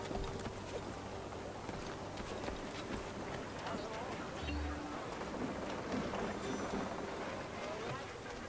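Rapid rhythmic hoofbeats of a galloping horse in Assassin's Creed 3, steady throughout, mixed with game background noise and a low hum.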